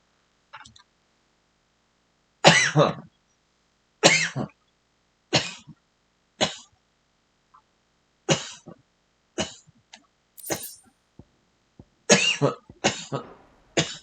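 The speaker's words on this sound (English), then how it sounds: "Excuse my cough." A series of harsh coughs, about ten separate bursts with quiet gaps between them, loud and close.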